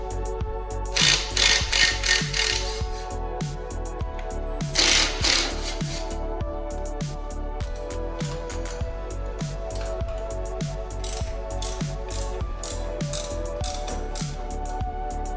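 A hand jack clicks and ratchets in a steady rhythm under a Harley-Davidson M8 Softail, raising it up close by, with a couple of louder metallic rattling bursts early on.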